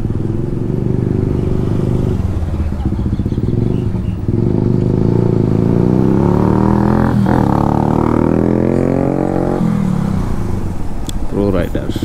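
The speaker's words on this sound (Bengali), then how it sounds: "ফিল্টার খুলে রাখা, এই যে উচ্চ গতির যে শব্দটা হচ্ছে, এইটা তো মানুষকে বিরক্তি করা।" A motorcycle with its air filter removed revs hard and drones loudly at high speed, rising and falling pitch throughout, with someone talking over it.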